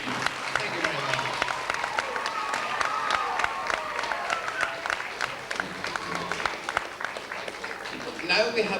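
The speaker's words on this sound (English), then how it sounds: "those three youngsters deserve a round of applause" An audience at a community concert in Ederney applauds three youngsters, a dense sustained roll of clapping from a packed hall with a few cheers mixed in and some murmured voices near the end.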